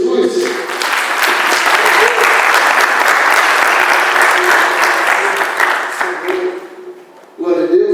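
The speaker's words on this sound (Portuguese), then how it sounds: "Então vamos aplaudir o Senhor Jesus." Sunday church service congregation bursting into sustained applause, a thick roar of many clapping hands for several seconds before tapering off, with a voice briefly heard near the end.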